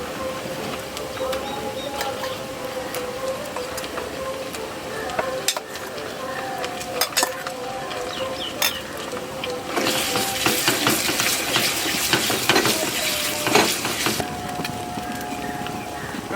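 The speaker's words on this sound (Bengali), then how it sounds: "বেটে রাখা আদা জিরা শুকনো লঙ্কা দিয়ে দিচ্ছি।" Ground ginger, cumin and dried chili frying in a pan, a continuous sizzle with scattered clinks and stirring scrapes, growing louder and busier in the second half.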